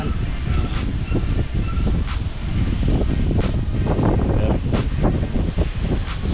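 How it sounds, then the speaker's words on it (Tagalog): Strong gusting wind buffets an outdoor coastal boat-building site, a continuous roar with rustling and microphone buffeting throughout, loud and close. "So sitwasyon ng hangin natin ngayon dito ay medyo lumakas na din ng konti."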